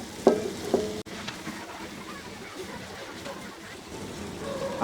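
Mashed potato with green chili and coriander frying lightly in a pan, a soft steady sizzle with a few sharp scraping knocks of stirring near the start, close and alone.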